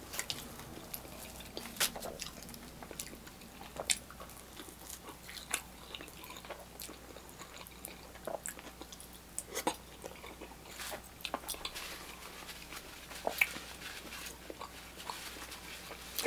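Someone chews spicy Indian food close to the microphone, with soft, irregular wet bites and crunchy mouth sounds over a quiet background.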